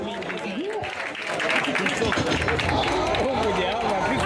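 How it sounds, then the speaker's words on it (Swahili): A crowd in Mombasa gives a warm round of applause, steady dense clapping that swells after the first second and continues beneath a talking voice and crowd chatter. "Haya, tuwapigie makofi mazuri."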